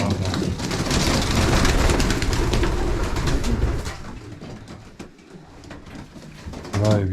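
Soft pigeon coos blend into a busy, noisy background with shuffling and rustling, and a voice briefly murmurs near the end.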